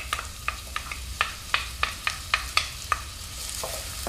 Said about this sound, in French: je vais verser l'huile d'olive et l'oignon